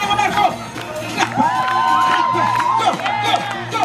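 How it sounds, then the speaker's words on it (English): A lively crowd whoops and cheers at a dancehall performance in Jamaica, dense overlapping shouts and voices swelling across the whole stretch, loud and close, with a steady beat underneath and people calling out. "Everybody clap your hands to the beat"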